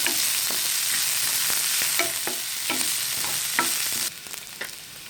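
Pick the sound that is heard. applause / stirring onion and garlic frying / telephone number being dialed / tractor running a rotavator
stirring onion and garlic frying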